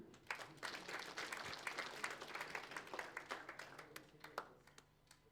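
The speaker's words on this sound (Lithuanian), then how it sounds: "Plojimai mūsų Stasiui." Applause breaks out for a presenter handing medals to winners at a Lithuanian sports journalists' awards ceremony, a fairly faint, even patter of many hands clapping that thins toward the end, with a voice speaking over it.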